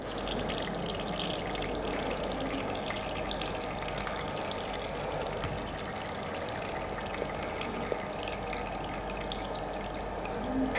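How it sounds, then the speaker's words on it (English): Distilled water rinses through a glass burette into a waste beaker in a chemistry lab, a steady soft pouring and trickling wash that runs continuously and fairly quietly, with no talking. "I have to wash the burette with some amount of distilled water 2 or 3 times by putting a waste beaker"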